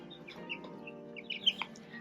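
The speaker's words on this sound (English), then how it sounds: "They're button quail chicks as well as regular chickens." Chickens and button quail chicks make soft clucks and short peeps, quiet and close, scattered over a low steady background hum.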